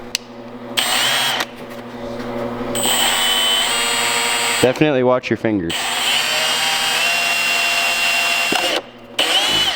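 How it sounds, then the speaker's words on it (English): A power drill whirs loudly and steadily while drilling a small hole in metal duck-hunting gear, revving up and down with brief pauses, while someone speaks over it. "So first we just gotta go through and drill a little hole."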